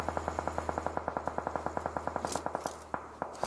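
Rapid automatic gunfire in a squad battle game, a steady rattle of evenly spaced shots for a few seconds, fairly close, then a brief pause and a couple of final bursts.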